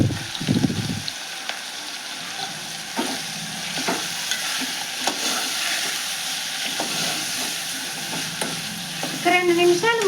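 Tomatoes with salt and turmeric cooking in a pan, a continuous close sizzle and hiss with occasional stirring scrapes and a few faint clinks toward the end, no voices.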